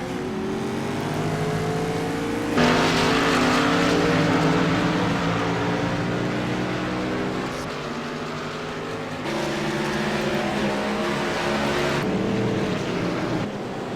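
Race cars pull away from pit stops after tire changes at an auto race, loud engines revving and accelerating in sustained overlapping roars with a sharp rise in intensity midway, no talk.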